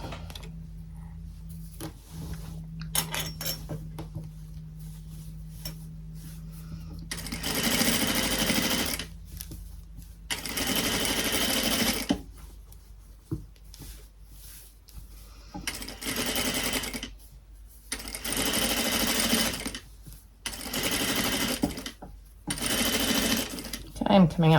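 Sewing machine stitching a seam on a handmade garment, running in several sustained bursts of rapid mechanical whirring separated by short pauses, loud and close, with a person speaking now and then between the runs.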